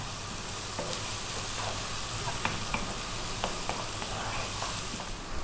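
Fish stir-frying over high heat with black pepper, oyster sauce and soy, a steady loud sizzle broken by scattered spatula scrapes and taps against the pan.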